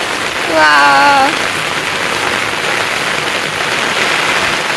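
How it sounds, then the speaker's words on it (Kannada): Heavy rain pours in a loud, constant rushing hiss, with a brief voice speaking near the start. "ಸಕ್ಕತ್ತಿದೆ ಅಲ್ವಾ ಮಳೆ"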